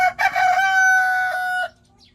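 A White Leghorn rooster crows once, loud and close, a drawn-out harmonic cock-a-doodle-doo of about two seconds that ends abruptly, with no one talking.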